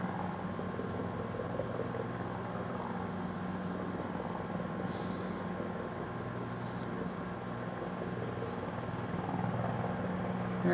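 A Black Hawk helicopter circling low overhead gives a steady, continuous rotor drone and engine whine that holds at a near, fairly loud level throughout.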